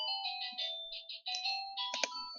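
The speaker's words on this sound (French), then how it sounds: "attention le téléphone" A phone ringtone goes off during a live-streamed game session: a bright electronic melody of repeated tonal bursts, fairly steady and close, with no talking over it.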